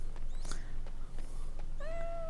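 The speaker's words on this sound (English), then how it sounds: "Kitty kitties. So many kitties." Cats meowing in the video game Dragon Age Origins, several short mews scattered across the moment and then a longer, clear meow at the end, set over a steady ambient background.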